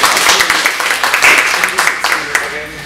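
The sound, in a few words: audience applause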